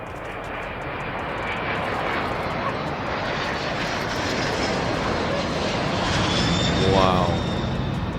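A big plane passes low overhead with a loud, swelling engine roar that builds and holds for several seconds.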